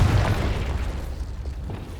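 A Confringo blasting spell in Hogwarts Legacy bursts with a deep boom at the start, followed by a rumbling decay that fades over the next two seconds.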